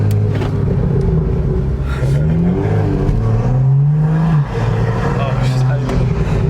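A straight-piped BMW M2 with a Stage 1 Bootmod3 tune revs loud and close, its raspy engine note climbing and falling through several pulls, with people talking over it.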